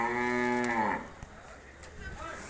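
A buffalo lows once, a long loud tonal moo lasting about a second, at a Sunday buffalo market offering Murrah, graded Murrah and Jafarabadi breeds; faint market bustle follows.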